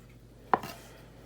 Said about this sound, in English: I'm just going to cut the tops off of the broccoli